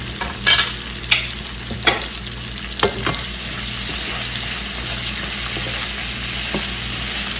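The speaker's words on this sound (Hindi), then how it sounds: "हमने जो प्याज और शिमला मिर्च डाली उसको ज़्यादा नहीं पकाना, बस हल्का सा आपको बस इसमें टॉस करना है" Onions and bell peppers being tossed with ketchup in a frying pan for honey chili potatoes: a few sharp scrapes and clatters of a spoon against the pan come early, then a steady low sizzle carries on alone.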